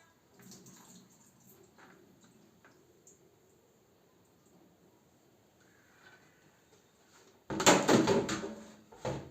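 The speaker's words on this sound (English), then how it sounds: "I want to remove excess water." Soaked omena fish being drained of excess water, a sudden loud splashing, pouring rush near the end after a long quiet stretch of faint handling noises.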